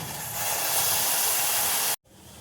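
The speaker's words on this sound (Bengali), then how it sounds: "জল দেখো ফুটছে" About one and a half cups of water boil in a saucepan for tea, giving a loud, even rushing hiss that stops abruptly after two seconds, leaving a fainter background.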